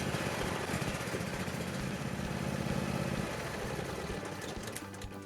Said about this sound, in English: I started the mower and let it run 30 seconds.